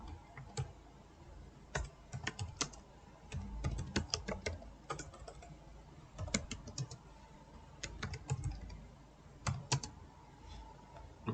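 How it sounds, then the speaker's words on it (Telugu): A word is typed on a computer keyboard: irregular bursts of crisp key clicks and taps, near and distinct, with short pauses between the runs and no voices. "ఇప్పుడు నేను ఒక వర్డ్ టైప్ చేస్తున్నాను"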